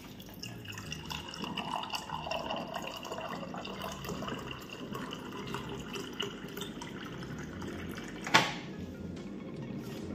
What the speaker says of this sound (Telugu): వాటర్ పట్టుకోవాలి.